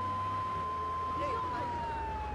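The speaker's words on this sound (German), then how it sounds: "Und dann machst du die Sirene an" A fire truck siren in the video game GTA 3, a long sustained wail heard over a steady vehicle rumble, with a faint short rising chirp partway through.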